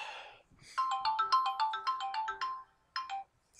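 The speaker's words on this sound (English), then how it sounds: "Excuse my phone ringing in the background." A phone ringtone plays a repeating melodic electronic pattern of quick beeping notes in the background, pausing briefly before starting another phrase, with no talk over it.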